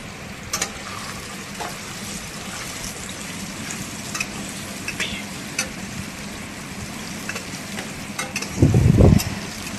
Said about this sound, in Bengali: আলুগুলা হলুদ আর লবণ দিয়ে ভেজে নেব